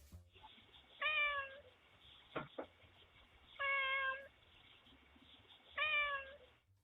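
A cat meows three times in evenly spaced, clear calls with a brief knock between them, picked up through a Ring doorbell with a faint background hiss.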